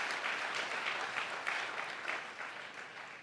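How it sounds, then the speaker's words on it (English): Audience applause at a LeadTalks Chennai 2020 talk by a chartered accountant, a faint, steady patter of clapping heard from some distance that slowly fades. "Can you give a very big clap from Jesus Christ?"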